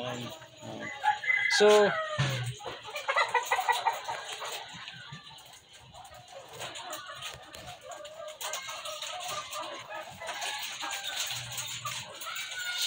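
Chickens from a flock of about 60 egg-laying hens cluck and crow loudly nearby, with a rooster's crow standing out early, while a person speaks briefly over the birds.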